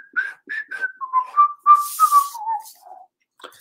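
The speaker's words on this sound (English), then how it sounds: "It's not very good whistling, but that's all right." A person whistles a short, wavering tune of about a dozen notes that steps downward in pitch, close and fairly clear, with a brief breathy burst partway through and no talk.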